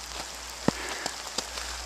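Steady rain hissing over a surface at Lanchester railway station, with occasional louder drops tapping nearby against a constant wash of noise.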